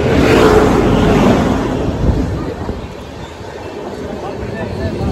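A train rolls past near a railway track, a loud broad roar that swells at first and then slowly fades, with rumbling wheels throughout and voices nearby.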